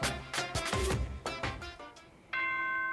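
A ding-dong announcement chime rings out in the video game Danganronpa: Trigger Happy Havoc, a clear sustained bell-like tone entering after some earlier percussive game sounds.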